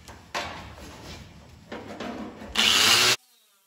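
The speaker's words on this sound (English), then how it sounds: "we get the grinder out for the wire wheel here and clean up the paint" Angle grinder with a wire wheel stripping paint off a 1967–69 Firebird or Camaro body, heard as a loud continuous abrasive whir that rises in bursts and cuts off abruptly.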